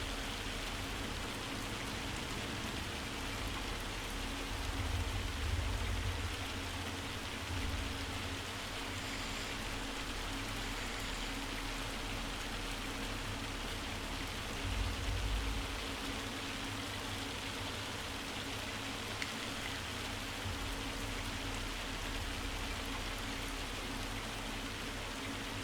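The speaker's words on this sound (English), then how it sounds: "it seemed to have stopped raining" Steady rain falling in the game Farming Simulator 25, a constant even hiss with faint low rumbles swelling now and then, moderate and continuous, no voices.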